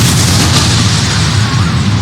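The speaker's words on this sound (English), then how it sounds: "how you can layer those explosions" A layered explosion sound effect plays as a loud, dense roar with heavy low-end rumble and broad noisy crackle, sustained evenly for about two seconds with no speech.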